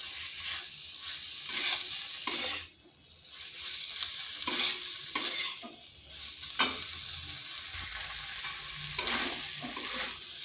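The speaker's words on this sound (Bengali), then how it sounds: "কষে কষে এটাকে রান্না করতে হবে" Soybean curry sautéing over slow-to-medium heat in a pan, a steady sizzle broken by periodic scraping strokes of a spoon, close and moderately loud with no talking.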